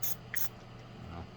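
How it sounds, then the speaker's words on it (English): Two short hissing bursts of cleaner sprayed onto a Ruger pistol, quick and close, followed by faint handling noise in a quiet room. "I'll use the spray."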